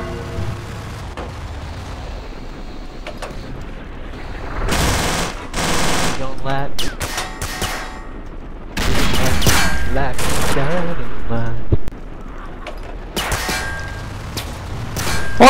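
Video game gunfire: loud bursts of rapid automatic shots and clanging hits come in several long volleys, mixed with quieter stretches and game sounds.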